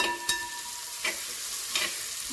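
Shallots, onion and ginger fry in hot oil for preserved dry beef, a steady low sizzle broken by three short scraping stirs about a second apart, close and alone.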